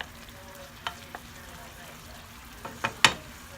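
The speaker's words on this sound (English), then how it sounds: "We're going to let this cook here, let the onions cook a little bit more." Onions cooking in a pan for a shrimp and crab salad, with a faint steady sizzle broken by a few sharp spatula taps and scrapes that grow louder toward the end, close by.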